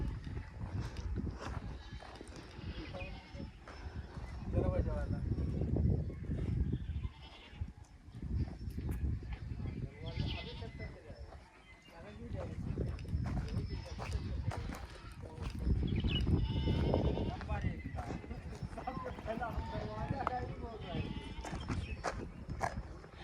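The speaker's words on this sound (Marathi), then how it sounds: "बकरी का ओरडते" A goat bleats several times at moderate distance while people talk nearby.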